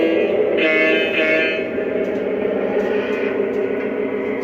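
A small Lionel NW2 model locomotive pulling a short train hums and whines steadily along its track after repairs, a continuous close mechanical drone with no talking.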